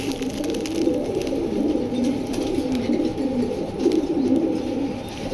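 Several foreign-breed pigeons in a coop cooing close by, a continuous layered run of low throaty coos and burbles with no talking.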